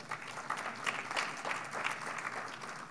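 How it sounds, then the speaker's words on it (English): Conference audience applause for a performer, a moderate, even patter of many hands clapping at medium distance, steady throughout with no talk over it. "a round of applause for Rachna ji again"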